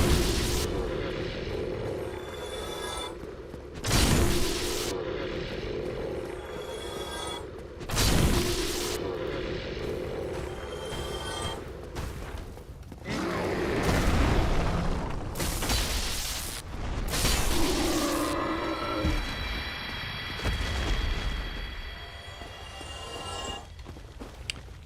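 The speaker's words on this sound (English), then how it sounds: "There's that fire breath." Loud, roaring bursts of a dragon's fire breath in Dark Souls, several heavy whooshing blasts that swell and fade over about 25 seconds, mixed with rumbling booms and mechanical clatter, no voices.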